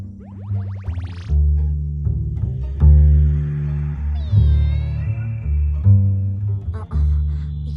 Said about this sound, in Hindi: ये तो एक बिल्ली के साथ खेल रही है।